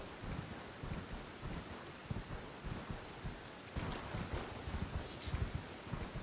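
Galloping horse hooves from the Elden Ring video game, a steady thudding clip-clop running beneath wind and rustling ambience with no talking.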